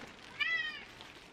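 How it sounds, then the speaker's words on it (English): A cat gives a single short meow with a rising and falling pitch, close by and moderately loud in an otherwise quiet indoor room. "He's a cat."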